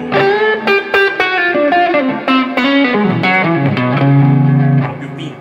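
A Stratocaster electric guitar with its tone knob turned up plays a lively run of bright, distorted notes and chords, loud and continuous with effects and reverb, no voices.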